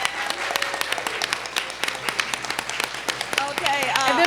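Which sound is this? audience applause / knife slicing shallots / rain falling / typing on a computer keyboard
audience applause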